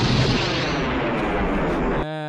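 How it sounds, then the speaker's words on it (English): Loud, continuous explosive rumble like movie-style blasts or artillery fire, dense and sustained for about two seconds before cutting off abruptly into a short tonal tail. "Explosions!"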